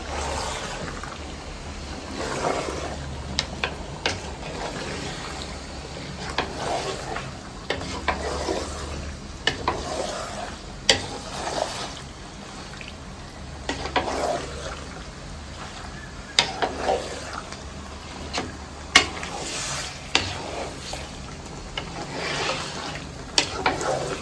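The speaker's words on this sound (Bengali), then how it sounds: "মাংসটা দিয়ে দিলাম, হচ্ছে নাড়াচাড়া দিয়ে দিচ্ছি ভালো করে।" Qurbani meat frying in a pot while being stirred, a low steady sizzle broken by irregular scraping and clattering strokes, fairly quiet and close.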